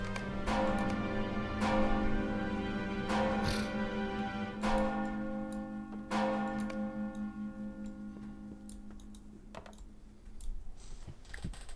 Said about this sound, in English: What is that? The town bells!